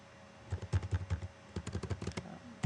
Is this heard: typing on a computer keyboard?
yes